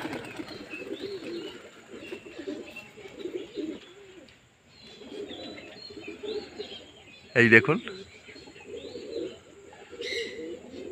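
Pigeons coo in an overlapping, close chorus at a loft on a cloudy day, broken by a brief gap and a loud sharp knock, while someone speaks a few words over the birds.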